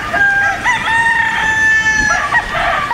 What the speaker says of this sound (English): Pretty much anybody could know that is a bird.